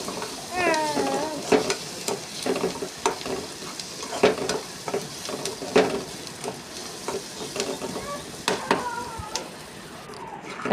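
Okra fry with turmeric is stirred in a hot pan, a continuous sizzle crossed by irregular scraping spoon strokes; close and fairly loud.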